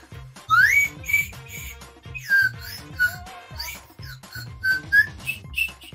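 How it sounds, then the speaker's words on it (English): A little whistle plays Bach's Prelude No. 1 in C, with bright piping notes rising and falling in short phrases over a rhythmic low backing, fairly close and clear. "I'm going to play you Prelude Number 1 in C by Johann Sebastian Bach."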